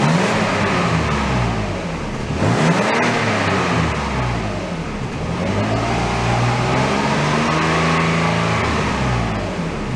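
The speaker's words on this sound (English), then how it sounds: "You want to burp the throttle a couple times?" A cheap used Toyota Tacoma engine revved close up with repeated throttle blips, pitch sweeping up and falling back several times over a steady idle, loud and continuous with no speech.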